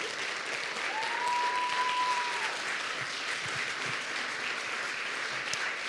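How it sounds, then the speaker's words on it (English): Standing crowd at a YWCA Spokane anti-racism event applauds; steady, moderately distant clapping continues throughout, with a few cheers and thumps. "let's give them a round of applause."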